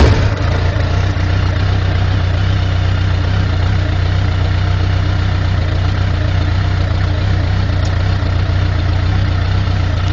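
A Suzuki Bandit motorcycle engine idles loud and close after a cold start with no choke, a steady low throbbing rumble with no talk over it.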